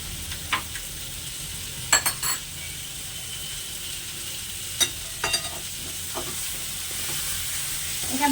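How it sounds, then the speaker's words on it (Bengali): Sour yogurt stirred into a sizzling chicken biryani mixture in a pan, a continuous soft frying hiss with a few sharp clinks and scrapes of a spoon against the pan, no voices. "এটা ভালোভাবে মিশিয়ে নিতে হবে।"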